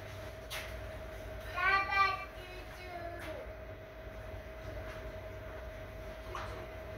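Quiet interior of a hybrid railcar standing still with its motor off: a steady low hum and faint background rumble, with a brief murmur of a voice and light cabin noises.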